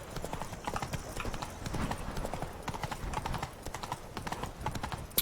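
Hoofbeats of Roach, Geralt's horse in The Witcher 3: Blood and Wine, clip-clopping steadily at a walk, close and clear over game ambience with no one talking.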